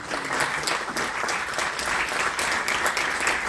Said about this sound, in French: Bravo Erwan, on peut applaudir